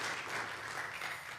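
Church congregation gives a steady, dense round of applause, moderately distant and filling the room evenly for its whole length, with no talk over it.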